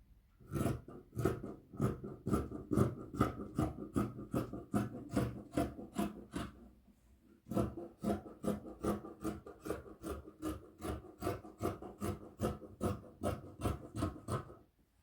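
Scissors slice through four stacked layers of fabric in steady, rhythmic snips, each close and crisp, with one brief pause midway before the cutting resumes.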